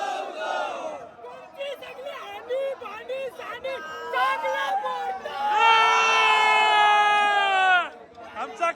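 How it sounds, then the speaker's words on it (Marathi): Young palanquin bearers of the Kalyan Koliwada palkhi cheer and chant at the Ekvira temple fort, loud and close. Rhythmic group shouts swell into a long, sustained collective yell before breaking off. "आमचा कल्याण कोलीवाडीची पालखीची पोरा बघा फुल जल्लोष मध्ये आहेत"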